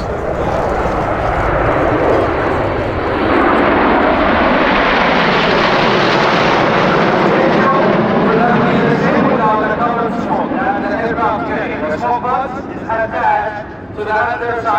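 Saudi Arabian Air Force Hawk T.65A jets passing at the Sanicole airshow, a loud swelling jet roar rising and fading over many seconds, with a Doppler sweep as the formation flies by and recedes.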